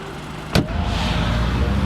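A wrecked and modified 2012 Volkswagen Golf R MK6 pulls away, with a sharp clunk like a door or shift followed by a steady, loud engine and road rumble from inside the car.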